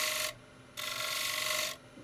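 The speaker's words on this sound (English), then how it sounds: "See whether if it'll allow me to shear scrape this a little bit." Two bursts of dry, broadband shear scraping across a walnut platter, the first brief and the second longer, close and steady, with a quiet pause between.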